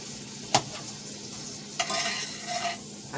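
Squash and onions sautéing in a pan, a soft steady sizzle broken by two sharp utensil scrapes or clinks against the pan, close and fairly quiet with no talking.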